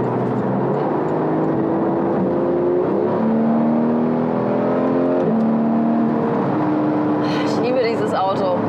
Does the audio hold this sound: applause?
no